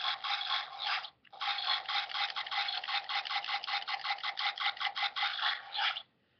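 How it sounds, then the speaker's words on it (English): Den Gasher toy gun gives a buzzing electronic construction effect from a small speaker, one brief gap and then a steady run of rapid pulsing chirps, close and alone. "And that's the sound of the Den Gasher being constructed."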